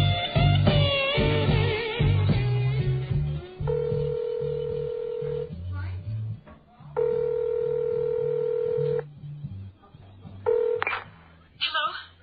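A landline telephone in a radio drama: dial tone and a quick series of keypad dialing tones, with long steady tones between bursts, heard close over a low rhythmic music or noise bed.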